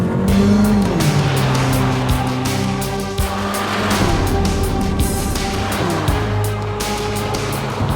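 Mercedes A45 AMG hot hatch driving hard, a loud engine revving up and down through gear changes with tyre squeal, close and continuous with no talk.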